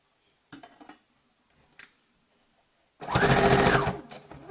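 A sewing machine stitches fabric for reversible baskets in one loud, steady run of about a second and a half, after faint handling noises with no one talking.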